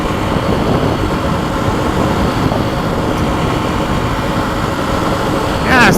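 Kawasaki KLX300 motorcycle engine running steadily with a rough, uneven drone held near 6,000–7,000 RPM, sounding slightly off, close and loud throughout with a brief surge at the end.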